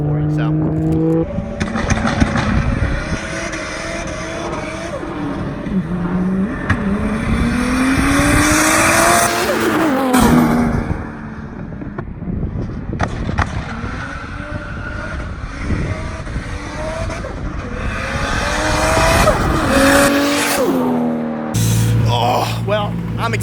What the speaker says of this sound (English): right now Calvin's just doing a couple flybys